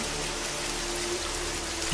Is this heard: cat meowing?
no